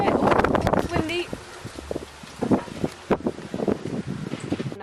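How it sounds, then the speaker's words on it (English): Wind buffets the microphone with a low, rumbling roar while people talk over it, the gusts steady but not overpowering. "oh, it's windy."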